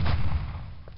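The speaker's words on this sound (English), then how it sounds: "let me try Blunderbuss again" A single blunderbuss blast from the video game Deathtrap Dungeon, a loud, heavy boom at the start that decays into a rumbling tail.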